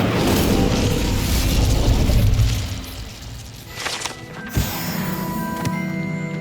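A fire spell cast in the Hogwarts Legacy video game: a loud, rumbling burst of flame that roars for a couple of seconds, then fades into quieter magical chimes and a sharp pop.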